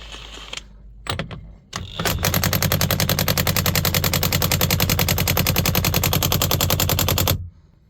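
An impact driver fitted with a Craftsman deep socket works on a steering wheel install in a 2022 Peterbilt truck. A few short bursts start it off, then it hammers loudly and rapidly for about five seconds before stopping.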